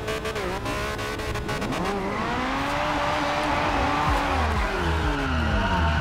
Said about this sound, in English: I am in my Ferrari GTO.